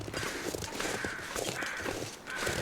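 Crows caw repeatedly in the cold outdoor wilderness of the survival video game The Long Dark, with harsh, overlapping calls at moderate distance and no voices.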